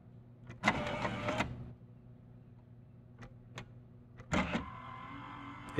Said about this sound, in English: Now I'm going to press number 5 to try to return it, and you're going to see the carriage is going to jump up a little bit